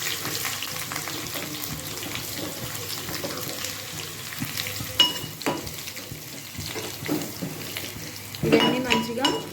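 Garlic cloves, dried red chillies and fenugreek seeds frying in oil for a tomato dal, crackling and sizzling close up with irregular clinks and scrapes of a utensil against the pan, louder bursts near the end.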